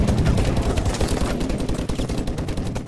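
Rapid automatic gunfire in a Call of Duty Advanced Warfare campaign, a dense, loud stream of close shots in quick rhythm lasting about three seconds.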